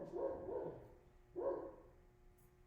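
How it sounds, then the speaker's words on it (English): Two bursts of dog barking, somewhat distant and muffled, with a pause between them. "I'm sure you guys can hear the dogs outside."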